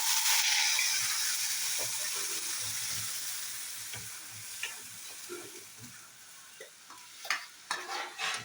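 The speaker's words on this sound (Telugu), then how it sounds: "ఇది కాస్త బాగా వేగిన తర్వాత మనం ముందుగా ముద్ద చేసుకున్న ఈ చట్నీ ఎందులో వేసుకోవాలి." A coconut tomato chutney paste fries in a pan with curry leaves, giving a soft steady sizzle and the occasional clink and scrape of stirring. It starts louder and fades slightly, with no voice.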